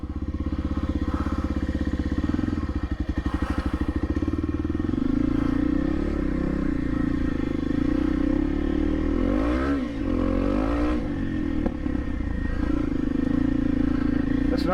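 A motorcycle churns along a muddy, wet trail, its engine droning and surging through revs for the whole stretch, with clatter and scraping from the bike as it works through the mud.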